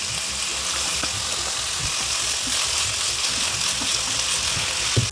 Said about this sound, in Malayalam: ഉപ്പും കുരുമുളക് പൊടി ഇട്ടാണ് സോട്ട് ചെയ്യുന്നത്.